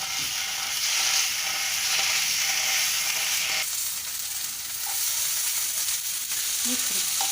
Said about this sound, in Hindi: जिंजर गार्लिक को मैंने थोड़ा डालने के बाद 1 मिनट तक फ्राई कर लिया है